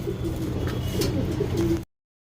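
A racing pigeon coos close up in a few soft, low, throaty rolls, then the sound abruptly cuts to silence.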